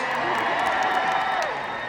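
Arena crowd applauding and cheering the floor manager at a televised musicals night in Manchester, a dense, steady roar of clapping and voices with faint talk mixed in.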